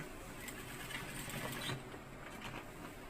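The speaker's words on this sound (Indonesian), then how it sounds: "kita jahit seperti ini" Sewing machine running steadily while stitching and backstitching a pocket flap for an ABRI-style uniform pocket, a continuous close mechanical whir with slight rhythmic variation and no talk.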